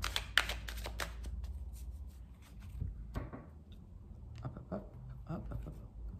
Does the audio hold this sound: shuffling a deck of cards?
yes